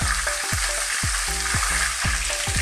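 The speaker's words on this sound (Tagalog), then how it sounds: "Ngayon, pag na-fry na po ang isda, naluto na siya" Fish frying in a pan for a Filipino dish with bitter melon, a dense steady sizzle close up, with faint low rhythmic thumps repeating about twice a second beneath it.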